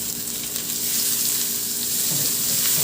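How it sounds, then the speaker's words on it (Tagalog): Garlic, onion and tomato sautéing in a pan, a steady close sizzle of frying that holds evenly throughout, with faint clinks of stirring near the end and no talking. "igisa ko na yung bawang. Isunod ko na rin ilagay yung sibuyas."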